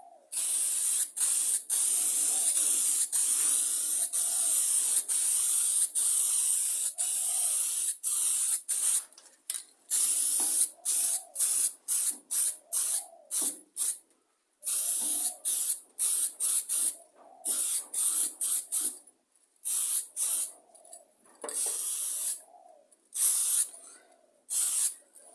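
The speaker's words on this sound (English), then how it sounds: "sometimes if you've got enough in there you can just spray it down between there like that" An aerosol can sprays paint onto an old lawn mower in long hissing bursts, then in quicker short blasts with brief pauses between them, all close up.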